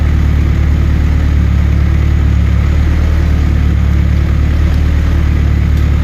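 A Toyota MR2 fitted with a swapped Honda K-series engine idles with a loud, steady, low rumble that holds constant without revving.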